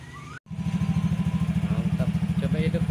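A Honda Beat scooter engine catches right after a brief dropout and settles into a steady, rapid idle with a regular low pulsing beat, close and loud throughout, with faint voices underneath.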